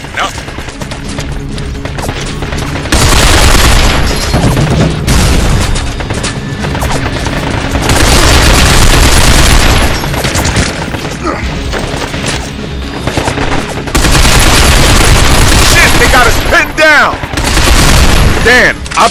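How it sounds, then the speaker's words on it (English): Heavy machine gun fire rattles in sustained loud bursts among booms and impacts during a firefight in the video game Binary Domain, with voices talking over the battle noise. "Dan, I'll take care of the machine gun."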